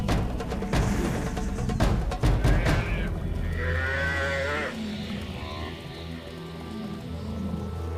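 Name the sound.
herd of buffalo in chaos under lion attack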